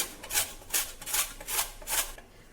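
Red pumpkin scraped against a hand grater, five even rasping strokes in a steady rhythm, close and clear with no talk.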